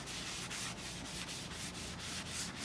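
Paper towel rubbing flaxseed oil onto a Blackstone 22 griddle surface, a steady close dry scrubbing with rhythmic back-and-forth strokes about twice per second, continuous and fairly loud with no talking.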